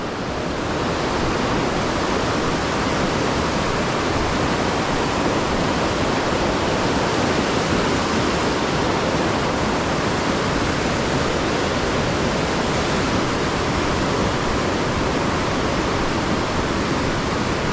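Creek water rushes steadily along the Pacific Crest Trail, a dense, continuous wash of flowing water that stays close and loud without a break.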